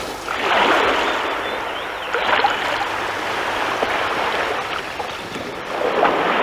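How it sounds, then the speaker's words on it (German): Sea waves rush and break in repeated surges, a broad hiss swelling and fading every couple of seconds with wind noise underneath. "schauten sie auf das Meer hinaus und die großen und kleinen Wellen rauschten dazu an den Landesgrenzen"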